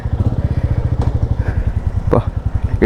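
A motorcycle engine chugging close by in the early morning, a loud, even rhythmic thump with brief clatters over it, while a person talks over the engine.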